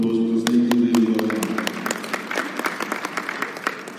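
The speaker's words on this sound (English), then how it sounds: "I want to just give them a round of applause, because they do really well." A convention audience breaks into applause, a dense crowd clapping that builds and continues through the whole stretch, with a voice talking at the start.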